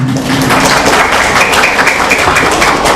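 A school audience applauds at a kindergarten Quran memorization event, loud steady clapping from a room full of people that fills the moment without a break.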